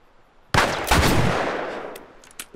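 Gunfire from The Last of Us: a sudden loud burst of rapid shots that continues as a sustained fusillade, fading slightly, with a couple of sharp later shots near the end.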